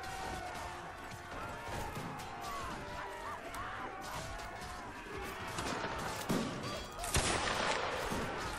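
Musket gunfire in Mount & Blade: Warband, scattered faint shots and cracks over a busy battle background, with one sharper near shot toward the end.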